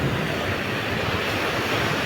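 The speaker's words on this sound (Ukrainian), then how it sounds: "моречко шумить вітерець легенький" Autumn sea surf washes steadily with a light breeze, a continuous broad rushing roar with no distinct breaks, even and moderately loud throughout, with no talk.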